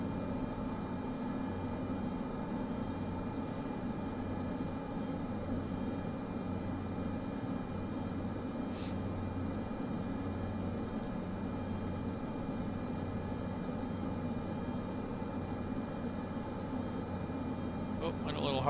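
A Cessna C208B's turboprop engine in the flight sim MSFS 2024 drones in a steady, even cabin roar, with a constant low hum and hiss that never changes through the whole stretch.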